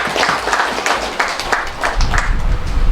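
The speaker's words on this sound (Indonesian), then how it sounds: "Tepuk tangan atas kehadiran beliau." A seated audience at a Halal Bihalal community gathering breaks into applause for an arriving guest, a steady mid-distance clatter of many hands that swells near the end.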